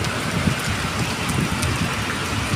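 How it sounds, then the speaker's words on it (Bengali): Heavy rain in a Kalbaishakhi storm pours steadily and loudly, a dense, even hiss of drops on the street while water rushes along the road. "কি বৃষ্টি হওয়া হচ্ছে"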